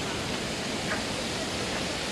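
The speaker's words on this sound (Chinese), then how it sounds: "佢有个瀑布喺度做衬底嘅。" A waterfall behind a lotus pond in Shing Mun Valley, Hong Kong, heard as a dense, continuous rushing roar of falling water, steady and fairly loud, with no voices.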